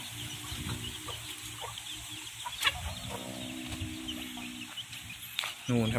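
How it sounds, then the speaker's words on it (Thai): Domestic chickens cluck and call steadily at a farm feeding, several birds close by with a constant background murmur and an occasional louder squawk. "ไก่เราก็มีเยอะนะครับมีหลายตัวอยู่นะครับเป็นไก่บ้านนะครับ"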